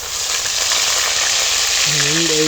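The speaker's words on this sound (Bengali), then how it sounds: "কড়াতে দিয়ে দিলাম সর্ষের তেল তবে একটু আদা কাঁচা লঙ্কার বাটা" Ginger and green chili paste hits hot mustard oil in a kadai and sizzles loudly and evenly, a dense close crackle that continues throughout, with a brief tonal voice-like sound near the end.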